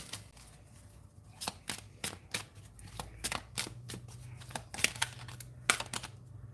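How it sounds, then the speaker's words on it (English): Playing cards being shuffled close up, a series of sharp riffling bursts and flicks in an irregular rhythm over a low background hum, with no talk. "One more shuffle."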